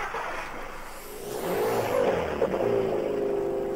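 A car pulls away and drives off in a horror video game, the engine rising in a steady revving whir that builds louder and nearer over a few seconds, with no talking.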